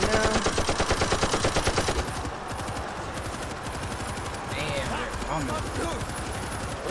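Mounted machine gun firing in World War Z during a mission in France, a loud rapid burst for about two seconds, then gunfire and chaotic combat noise carrying on underneath.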